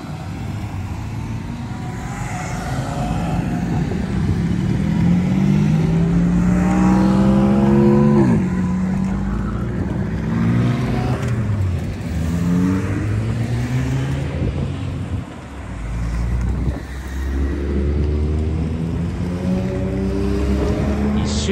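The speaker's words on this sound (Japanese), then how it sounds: "1周目はタイヤを温めるための走行のようで、それほどスピードが出ていませんが、周回を重ねるごとにだんだんスピードが上がっていきます" Cars lap the Mihama Circuit during a track day, their engines droning steadily and fairly loud as they pass and rev, with rising and falling pitch sweeps and no talking.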